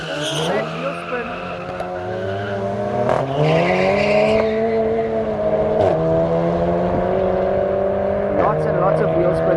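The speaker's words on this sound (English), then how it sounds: "Lots of wheel spin there in the left hand lane." A club sport race car spinning its wheels off the line at a private event at Killarney race circuit: a loud, sustained engine roar rises in pitch over steady tire squeal, with commentary voices underneath.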